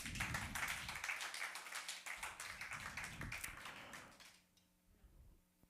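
A church congregation claps and cheers for the Lord in a dense, rhythmic burst of applause that fades away near the end.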